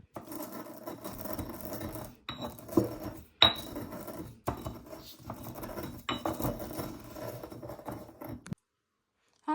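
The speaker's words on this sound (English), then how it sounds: "going to just start crushing the eggshells" Eggshells crushed with a small muddler while making black protection salt, giving a steady gritty grinding and crackling with sharp clinks against the container, repeated in bursts, close and alone, ending in silence.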